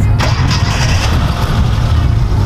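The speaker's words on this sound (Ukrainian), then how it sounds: "ми будемо заводити автомобіль" A ZAZ Sens car engine cranks and starts, then settles into a loud, steady rumbling run close by, with a strong low throb that holds for the whole stretch.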